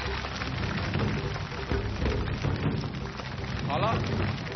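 A studio audience on a Chinese TV variety show applauds in a dense, steady wash of clapping that runs for several seconds, with a voice talking faintly over it.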